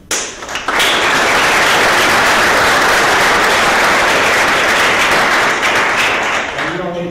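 Loud, dense applause from an audience at a college natural sciences town hall meeting, many hands clapping in a steady roar that starts abruptly and carries on for several seconds before easing slightly at the close.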